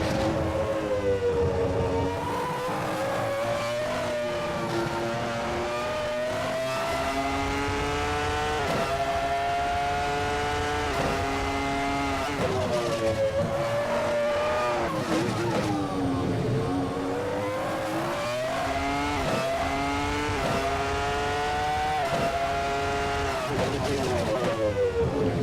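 A pink racing car lapping in Assetto Corsa, its engine note rising and falling in long repeated sweeps through gear changes, loud and continuous with no break.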